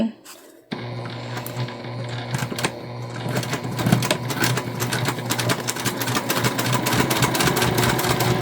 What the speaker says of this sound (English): now we're just going to put a basting stitch along the other 3 sides of our pocket